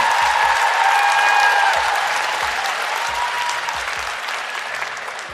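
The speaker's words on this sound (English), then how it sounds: "That needs another round of applause from all of y'all." Sustained audience applause at a live talk show event, a thick continuous wash of many hands clapping, loud at first and gradually easing, with scattered cheers inside it.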